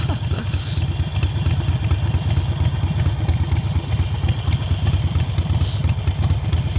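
A Harley-Davidson Forty-Eight motorcycle with Vance & Hines exhaust idles loudly and close by, its engine putting out a steady, deep, lumpy throb with a rapid uneven beat throughout.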